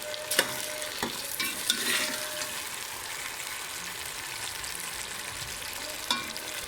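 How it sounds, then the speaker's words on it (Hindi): Taro root (arvi) frying in hot oil, a soft steady sizzle with several sharp scraping clicks of a spoon stirring the pieces in the pan, nearby and fairly quiet. "अब हम इसको करेंगे अच्छी तरीके से फ्राई"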